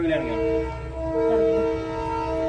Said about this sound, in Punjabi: ਟ੍ਰੇਨ ਬੜੇ ਚਿਰ ਬਾਅਦ ਆਈ